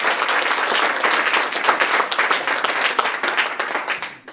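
An audience applauds after a startup pitch at a health-tech showcase, a dense, steady burst of clapping from a room of people that holds for about four seconds and then tapers off at the end.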